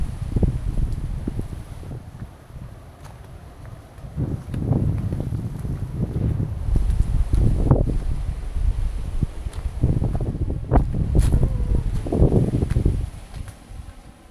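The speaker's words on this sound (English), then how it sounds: "from here, you'll be able to feel the strong wind of the area." Strong coastal wind at a clifftop resort in Pagudpud, gusting in uneven rumbling blasts against the microphone, surging and easing repeatedly with no talk.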